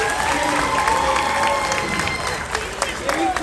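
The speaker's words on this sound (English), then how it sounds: "everybody give my helpers a big round of applause" A theatre audience at a SeaWorld Orlando Christmas show claps and cheers steadily for about three seconds, a dense, close wash of applause with voices mixed in.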